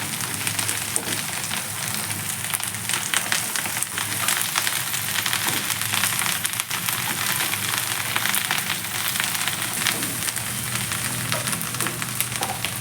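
Amaranth leaves and moong dal stir-fry in a hot pan, making a loud, continuous crackling sizzle that fills the whole stretch with a constant texture and no pauses.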